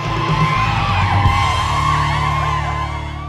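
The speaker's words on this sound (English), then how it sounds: "Scream Machine is an enormous rotating pendulum, spinning all the while, driving one to frenzied screams." Riders on the Scream Machine, an enormous rotating pendulum ride at an Indian theme park, scream and whoop over a droning music bed, with overlapping cries continuing throughout.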